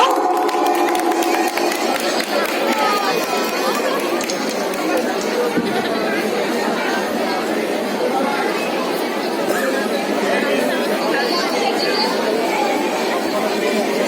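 Audience at a school stage show cheering for a children's dance group, a dense, steady crowd roar of chatter and shouts that fills the whole stretch without letting up.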